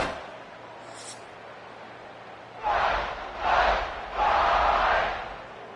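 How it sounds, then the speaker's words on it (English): A stadium crowd in the College Football 26 video game, South Carolina Gamecocks hosting Arkansas Razorbacks, swells into loud roaring cheers in three surges after a quiet opening, broad and distant. "This crowd ready to make its presence known."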